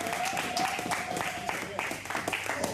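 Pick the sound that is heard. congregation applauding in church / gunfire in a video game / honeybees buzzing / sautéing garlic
congregation applauding in church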